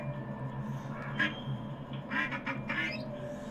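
A duckling in the Little Kitty, Big City video game gives a few quick, close quacks and squeaks, spaced unevenly over soft background game ambience.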